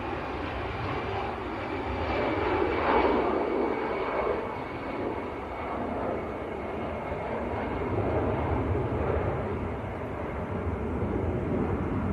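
An Airbus A320 rolls for takeoff at Manchester Airport, engines building to a loud, sustained roar that swells early, eases slightly, then holds steady and broad throughout, with no voices.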